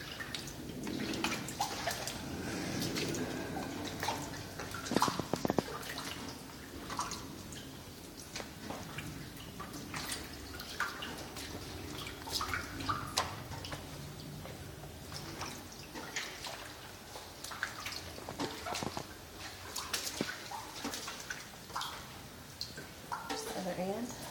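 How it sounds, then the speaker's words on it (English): Footsteps slosh and splash through shallow water in an irregular walking rhythm inside a burnt-out prison building, while people talk throughout. "We're walking in water."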